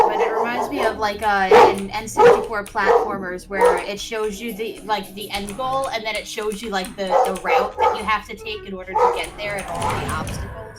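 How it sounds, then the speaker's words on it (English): Dogs bark in the background, faint and intermittent beneath a man's steady, continuous talk over Doom 64 gameplay. "excuse the dogs in the background"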